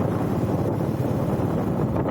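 Strong wind buffets the microphone outdoors, a loud, continuous low roar that rumbles steadily throughout with no voices.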